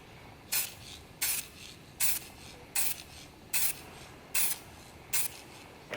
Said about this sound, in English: we're going to spray them with this stuff so they blend in nicely